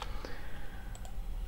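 Computer mouse clicks while working in the Vemto Laravel code generator: a couple of soft, brief clicks, faint and close, over a quiet room with no speech.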